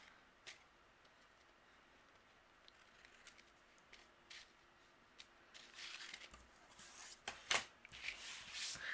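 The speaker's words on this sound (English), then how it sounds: "So we have a little shake, a little noise to our shaker" Faint, scattered rattles and light clicks of small sequins shaken inside a mini slimline paper shaker card, growing busier and louder toward the end, with no talking.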